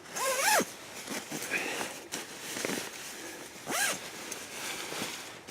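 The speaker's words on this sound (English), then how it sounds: "Zip this up" A clothing zipper on outdoor camping gear is zipped in several quick rasping pulls, close and crisp, separated by brief pauses and rustling of fabric.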